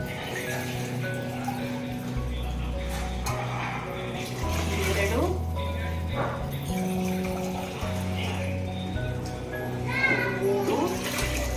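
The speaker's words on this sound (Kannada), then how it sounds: "ಇದು 3 ಲೋಟ ಅಕ್ಕಿಗೆ ನಾನು ಈ ಚಂಬಲ್ಲಿ 3 ಚಂಬು ನೀರು ಹಾಕ್ತಾ ಇದ್ದೀನಿ." Water poured from a pot into rice for bisi bele pulao, a steady close splashing that runs under a child's and an adult's voices throughout.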